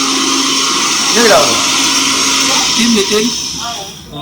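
A kitchen blender grinds sesame seeds with a steady, continuous whirring roar that holds at close range, fading slightly toward the end, with a voice speaking over it.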